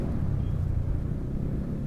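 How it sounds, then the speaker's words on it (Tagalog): A truck passes on the winding Bitukang Manok road in Atimonan, Quezon, a steady low rumble of road traffic that stays fairly even and moderately loud throughout, with no talk. "Uy, may truck."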